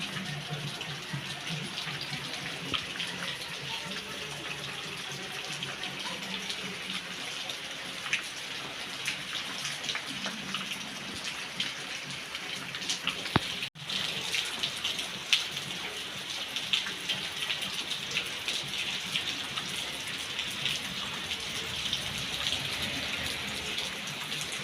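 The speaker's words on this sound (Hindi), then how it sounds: "हमारे साइड पानी गिर रहा है" Steady rain falls outside, a dense, even hiss of drops that continues unbroken throughout with no talking.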